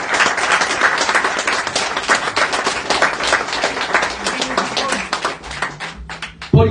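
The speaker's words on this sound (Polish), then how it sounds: "Stąd wielkie brawa dla was wszystkich." A crowd at a public speech claps in loud, rapid, overlapping applause that continues steadily for several seconds and then thins toward the end.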